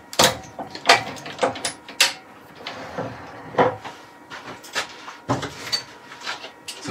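Small drawers of an engineering storage set in a woodturning workshop slide and knock open and shut repeatedly, producing a series of close, sharp clunks and rattles.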